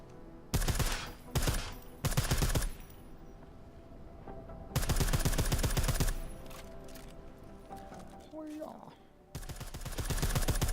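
Silenced automatic gunfire at the TF29 shooting range in Deus Ex: Mankind Divided comes in three sustained rapid-fire bursts separated by quieter pauses, fairly close and loud.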